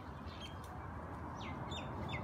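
Backyard chickens give a few soft clucks and short chirps at a moderate distance over a steady outdoor hiss, with no voices.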